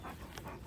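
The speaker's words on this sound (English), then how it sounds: "you can maybe hear some dogs barking in the background" Dogs barking and panting at a distance, a brief low-level burst of canine noise behind outdoor ambience.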